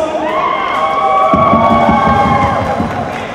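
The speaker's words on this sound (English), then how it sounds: "Can we please have a big round of applause?" An audience at a Hindi film promotion event cheers and claps loudly, with high excited shouts riding over a dense wash of applause.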